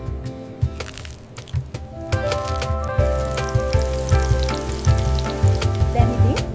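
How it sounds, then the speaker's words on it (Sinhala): Breaded leftover rice balls deep-fry in a pan of hot oil, giving a busy, close sizzle with frequent pops and crackles that runs steadily throughout. "දැන් ඉතින් තෙල් තාච්චියට දාලා රන්වන් පාට වෙනකම් බැදගමු"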